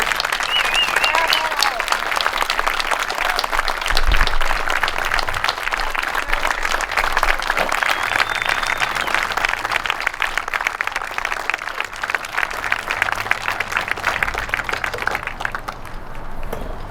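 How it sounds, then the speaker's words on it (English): Sustained applause from a large crowd at a veterans museum, library and honor roll dedication in Chicagoland, dense steady clapping lasting throughout with scattered cheers and some voices underneath. "I would ask all veterans to stand up and let's give them a really good round of applause."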